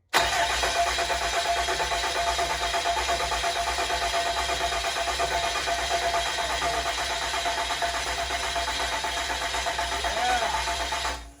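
A swapped 6.7-litre common-rail diesel, built for about 1400 hp, cranks and fires for the first time, then runs as a steady, loud, continuous engine drone that holds for roughly eleven seconds before cutting off near the end.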